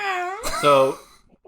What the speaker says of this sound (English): this dog just meowed at us